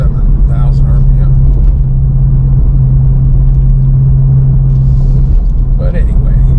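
A 2023 Ford Raptor R engine turns over at low revs, a steady deep rumble and hum from inside the truck while a voice talks over it.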